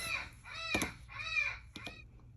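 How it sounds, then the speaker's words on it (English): A pet blue-breasted parrot calls indoors in a few loud, harsh squawks with sharp clicks between them, close by and with no talking. "I don't know if you heard that, but I have a blue-breasted parrot."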